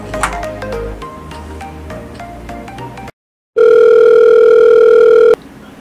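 A telephone line tone sounds on a talk radio call-in show about family problems: after background music and a brief silence, a loud, steady electronic tone holds for about two seconds, then cuts off.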